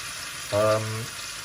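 Minced beef browning in warm rendered bacon fat over high heat gives a steady, close hiss of frying, with a brief tonal hum rising over it midway.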